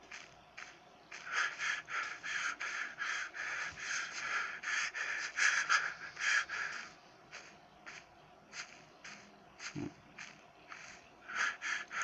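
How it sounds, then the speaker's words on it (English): A character in the video game Bigfoot Monster Hunter breathes heavily, with rapid, raspy panting breaths repeating in quick succession, close and steady, pausing briefly before resuming. "I'm breathing heavily. My character is breathing heavily."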